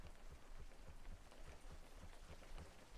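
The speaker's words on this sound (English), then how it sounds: "Especially when you're walking in the rain." Steady rain in the fishing video game WEBFISHING, a dense continuous patter of drops on surfaces that holds even throughout, with no talk.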